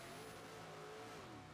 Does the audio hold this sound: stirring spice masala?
no